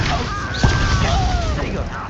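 Incendio fire spell cast in Hogwarts Legacy: a dense, roaring burst of flame with a booming low rumble, steady and loud across the moment, with faint whooshing effects layered on top.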